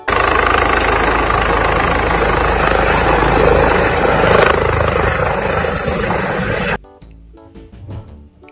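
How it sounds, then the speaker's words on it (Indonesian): A yellow helicopter's engine and rotor roar steadily and loudly for several seconds, then cut off abruptly into quieter, tonal sounds at the end. "Helikopter berwarna kuning."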